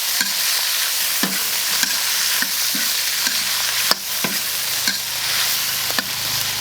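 Chili peppers, dried Sichuan peppercorns and hot pot base stir-fry in oil over a steady sizzle, with a spatula scraping the wok in regular knocks throughout.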